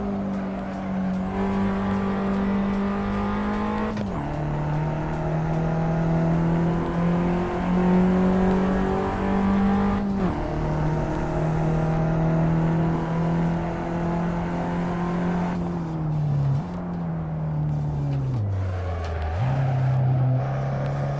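A race car engine in Assetto Corsa screams at high revs with steady, loud tonal whine, dropping in pitch at several gear shifts and downshifts before climbing again, with no talk over it.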